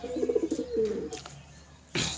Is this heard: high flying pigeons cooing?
yes